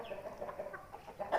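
Young chickens sick with a cold give a string of short, close clucks and soft throaty calls in a quick uneven rhythm, ending in a louder squawk, with no talking.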